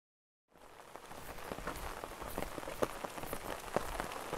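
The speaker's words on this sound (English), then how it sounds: "Who would want to hike in the rain?" Steady rain patters on a hiking trail, a dense close hiss of drops with scattered sharper taps, starting abruptly after a short silence and continuing alone without voices.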